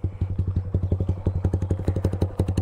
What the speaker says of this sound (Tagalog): sound checkin muna natin ng walang DB killer at walang silencer na Akrapovic full system